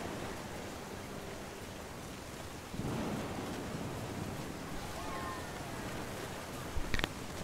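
Thunder in the video game What Remains of Edith Finch: a steady low, rain-like rumble throughout, swelling slightly partway and ending in a brief sharper crack near the close, with no voices.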